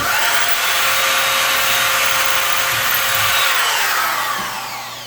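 Power drill boring holes for kitchen cabinet knobs through a homemade template, a loud continuous whine that winds down at the end.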